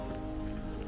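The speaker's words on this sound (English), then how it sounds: "unfortunately, we just had a heavy downpour." A heavy rain downpour at the harbour town of Ilfracombe hisses steadily and densely across a short moment, close and fairly loud, with no voices.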